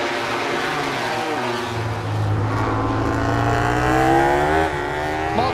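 MotoGP racing motorcycles at the Japanese Grand Prix, high-revving engines rising and falling in pitch as bikes pass through a corner, loud and continuous with several overlapping engine notes.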